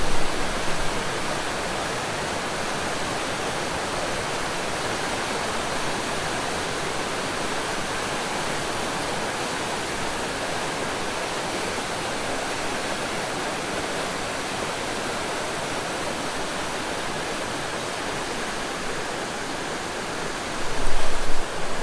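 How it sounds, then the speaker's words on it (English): A river in full flood rushes with a steady, loud broadband roar that holds without letup throughout, swelling slightly near the end. "Here's my river in full flood."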